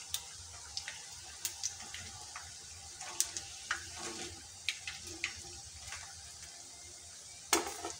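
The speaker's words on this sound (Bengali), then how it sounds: "তো বাকিগুলো একইভাবে ভেজে নেব।" Spicy puli pitha fry in hot oil with a soft, steady sizzle, punctuated by scattered crisp pops and ticks, heard up close and fairly quiet.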